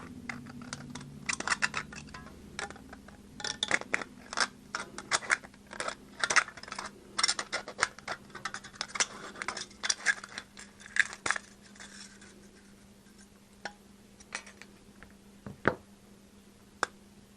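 Snipping cuts through a thin aluminum can while building the top of a penny can alcohol stove, a dense run of small crisp clicks and metallic snaps, close and fairly quiet, thinning out toward the end.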